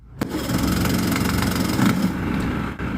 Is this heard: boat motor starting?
yes